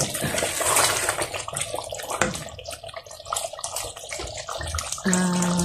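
Ground masala water from the grinder is poured into a pot of mutton curry, a splashing, gurgling pour that runs for several seconds before ending abruptly.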